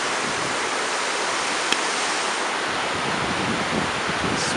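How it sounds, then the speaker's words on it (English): Broad steady rush of the Willamette River running low over exposed rocks, heard from a park bridge as continuous even noise with a single brief click partway through. "This is the beautiful Willamette River."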